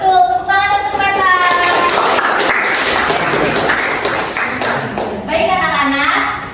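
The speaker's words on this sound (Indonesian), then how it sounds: "tepuk tangan untuk Meta" Schoolchildren in a classroom clap for a classmate during a lesson, a brief burst of scattered applause mixed with kids' voices, while a teacher's voice is heard before and after.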